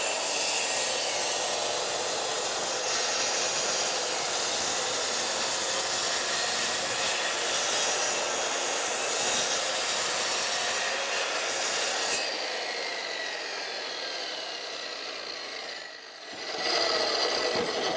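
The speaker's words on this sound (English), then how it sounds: "sliding compound miter saw here. It's not going to be able to cut it in one pass." A sliding compound miter saw cuts a thick wooden board, its motor a sustained, harsh whine for about twelve seconds. The tone then shifts lower and softer, dips briefly near the end and returns.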